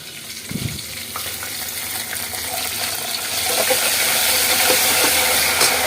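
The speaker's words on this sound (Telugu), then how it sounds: "ఇట్లా వేగినట్టుగా ఉంటేనే పప్పుకి టేస్ట్ అండి." Curry leaves and coriander sizzle in hot oil as a tempering for tottakura dal, a close hiss that builds and grows louder and denser over the last seconds, with a brief clatter near the start.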